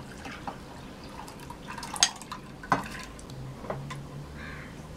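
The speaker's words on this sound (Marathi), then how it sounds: "कुकर घेतला आहे मी आणि त्याच्यामध्ये मी ही डाळ घालणार आहे" Lentils and water go into a pressure cooker with a few distinct metallic clinks and splashy pours against a quiet kitchen background, heard close.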